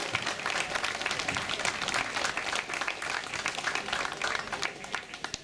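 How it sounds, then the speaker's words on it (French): Crowd applauding a cyclist at a women's stage race in Brittany, a dense, steady patter of clapping held at close range for several seconds with no voices over it. "Madame, monsieur, vos applaudissements à Audrey Cordon."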